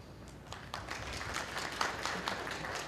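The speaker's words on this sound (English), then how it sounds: "There's a smattering of applause" Sparse applause from a conference audience at a talk, scattered claps rising to a modest patter, heard from a distance in a hall.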